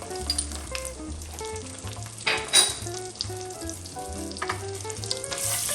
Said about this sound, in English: now to our pot, we're going to add our tomato paste